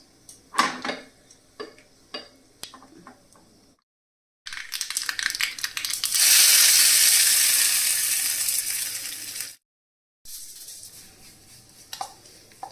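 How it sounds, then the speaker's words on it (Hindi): Dried red chilies and mustard seeds hit hot oil for a tadka, a loud, steady sizzle that swells and fades, framed by a pan and utensils clinking and tapping. "तो बस सूखी हुई लाल मिर्च और राई का तड़का दूंगी।"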